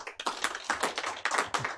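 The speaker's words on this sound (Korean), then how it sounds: "큰 박수로 맞아주십시오" An audience at an academic symposium claps to welcome a speaker, with brisk, steady applause from a small crowd heard alone and close.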